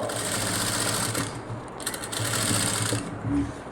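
A sewing machine stitches a design with a close, steady rapid mechanical whirring that slows or pauses briefly a few times.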